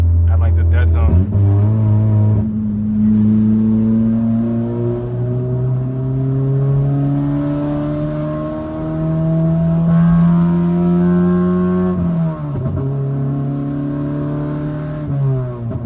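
A 6-speed Honda Accord engine revs steadily up through the gears under light throttle, the pitch climbing and dropping with each shift, loud and close from inside the car, with a voice talking over it.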